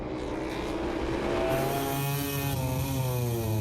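KTM and Ducati MotoGP bikes at the Spanish Grand Prix launch off the start line, a dense, rising howl of several engines revving together, steady and loud throughout with no talk.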